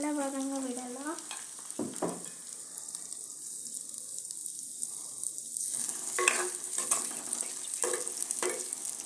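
Onions and dried chillies frying and being stirred in a pan, a steady close sizzle with scraping stir strokes and a few clinks, no talk over it.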